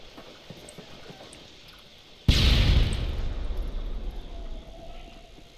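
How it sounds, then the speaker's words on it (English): An airstrike explosion in Call of Duty: Modern Warfare 3 lands with a sudden loud boom after quieter gunfire, then a heavy rumbling roar that slowly fades. "Friendly airstrike on the way."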